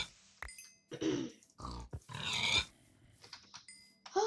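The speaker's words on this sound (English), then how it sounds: "and there is the pigs over here." Pigs in the video game Minecraft give several short, snorting grunts at irregular intervals, close and clear, with brief quiet gaps and other faint game sounds between them.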